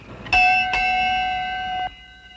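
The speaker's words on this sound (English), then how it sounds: "I ring that bell whenever I want something" A bright hand bell rings twice in quick succession, the second strike ringing out with a sustained metallic tone before cutting off abruptly; close and fairly loud.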